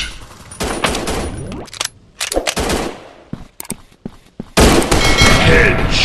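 Gunfire in the mobile shooter FPS Encounter Shooting Strike, with loud automatic bursts broken by short pauses and a dense burst at the end, mixed with game voice effects.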